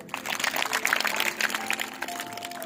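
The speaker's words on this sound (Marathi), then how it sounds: "त्याच्यासाठी सगळे टाळ्या वाजवा" An audience at a school event claps for a student in a steady burst of applause that fills the whole moment with dense, crackling hand-claps and no clear talk.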